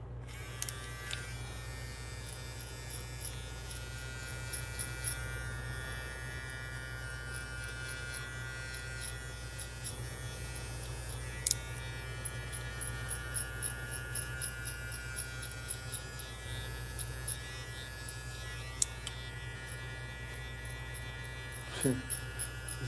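Electric hair clippers buzz steadily as a man cuts his own hair, a constant close droning hum lasting throughout with small fluctuations and a few faint clicks, no voices.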